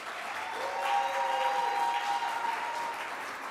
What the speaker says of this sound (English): Let's give a big round of applause for the final 4 and all the other teams that entered the